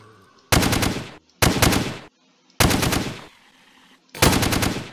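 Four loud, close bursts of automatic fire from a G36C assault rifle in the Minecraft Crafting Dead mod, each lasting under a second with brief silent gaps between.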